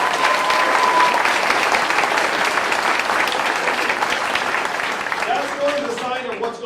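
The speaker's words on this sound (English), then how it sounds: "Let's give him a round of applause." Sustained audience applause from a political rally crowd, a dense steady wash of many hands clapping throughout, loud and close, with some voices mixed in near the end.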